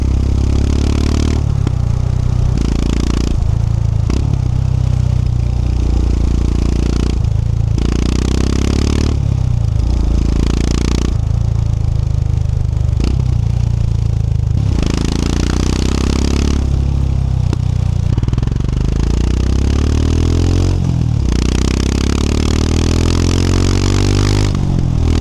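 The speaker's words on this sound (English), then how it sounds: "We've got the Power Rage exhaust here." Royal Enfield Himalayan 411 motorcycle fitted with a Power Rage aftermarket exhaust, a loud close single-cylinder engine idling and repeatedly revving in short bursts with a deep throaty burble, alone without talk.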